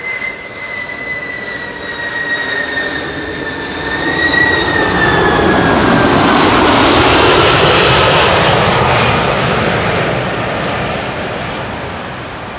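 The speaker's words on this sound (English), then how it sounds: "There's a very bouncy landing of a cargo, Cathay Pacific Cargo 747-8" A Cathay Pacific Cargo Boeing 747-8 lands roughly at Schiphol, its loud, broad jet roar swelling and holding with a high whine gliding downward, no voices over it.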